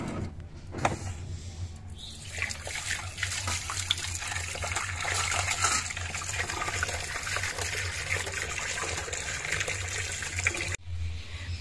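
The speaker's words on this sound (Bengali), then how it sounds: "এবার এই মাছগুলো ধুয়ে নিতে হবে" Running tap water splashes steadily as large pabda fish are rinsed clean during recipe prep, a continuous close wash of flowing liquid that cuts off abruptly near the end.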